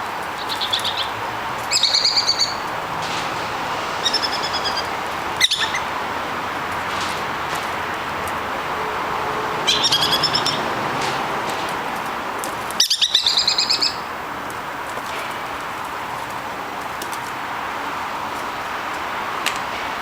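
Kakariki parakeets chirp in short, sharp bursts while being hand-fed, with intermittent tweets over a steady background hiss and a few clicks.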